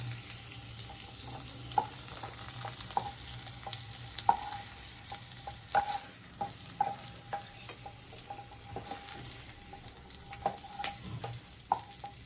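Capsicum pieces fry in hot oil, giving a steady, close sizzle broken by scattered clicks and taps from stirring throughout.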